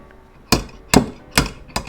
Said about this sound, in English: Thread the slide hammer on again.